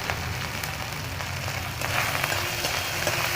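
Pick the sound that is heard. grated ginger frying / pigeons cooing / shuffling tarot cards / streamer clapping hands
grated ginger frying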